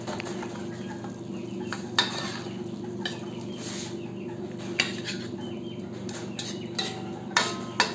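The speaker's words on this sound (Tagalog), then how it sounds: "Pagkatapos ng 3 minuto, haluin natin ito ulit." A spoon stirs chicken adobo with pineapple tidbits and syrup in a pot, scraping and knocking against the metal in scattered taps over a low simmering sizzle, with no talk.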